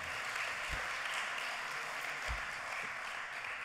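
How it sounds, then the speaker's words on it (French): Sustained applause from a large audience fills a congress hall at the closing session of the 38th FNCCR congress, a dense, steady clatter of clapping with no voices over it. "vous pouvez vous applaudir vous-même"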